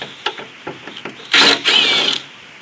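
A power tool unbolting the rear wiper motor on a Nissan 350Z: a few light clicks and taps, then two short, loud bursts of whirring tool noise close by, with no talking.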